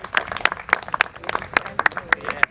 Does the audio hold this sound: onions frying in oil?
no